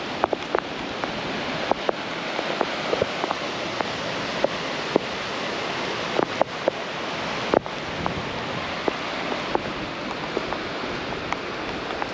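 Broadband surf and wind roar on a rainy beach on Scotland's north coast, a constant dense wash with occasional gusts buffeting the microphone and scattered clicks, no voices.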